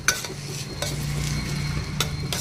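Ginger and garlic frying in a pan for a coconut beans curry, with a steady hiss of sizzling oil broken by a few sharp scraping stirs, close and fairly loud.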